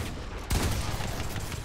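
Gunfire in a battle royale video game: a sudden burst of rapid shots cuts in after a brief lull, then dense crackling fire continues under steady background noise.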